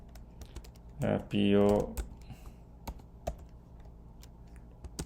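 Brief burst of typing on a computer keyboard, a rapid cluster of clicks lasting about a second, heard under a person speaking.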